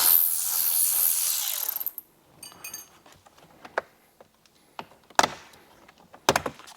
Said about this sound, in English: I prefer to use a ratchet. Remove both of those screws.